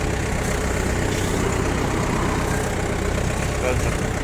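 Yanmar FX335 mini tractor engine running steadily at about 3000 rpm, a continuous even drone with no breaks, close by and moderately loud.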